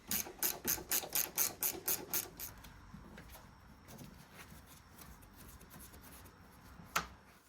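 Socket wrench with an extension ratcheting out a 10mm bolt on a Dodge Ram, a quick rhythmic run of about a dozen close clicks, then quieter fiddling and a single sharp click.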